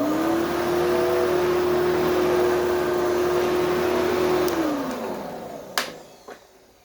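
A 2003 Sanitaire SC4570B-1 upright vacuum cleaner runs with a steady motor hum and a slight whine, then winds down and fades, followed by a couple of soft knocks.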